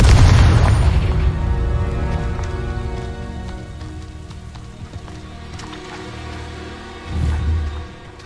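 A Confringo spell explosion in the game Hogwarts Legacy, heard as a loud low boom at the start that fades into a crackling rumble, then a second smaller thud near the end.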